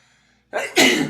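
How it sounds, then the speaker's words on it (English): A single sneeze in two parts: a short sharp intake burst followed by a louder, forceful explosive release, close to the mic after near-silence. "Hold on, I'm gonna sneeze"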